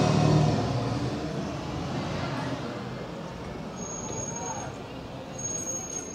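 A bus heading for the Fleetwood Ferry passes along Talbot Road in Blackpool at night, its engine and tyre roar loudest at the start and then settling into a steady traffic hum, with talk over it.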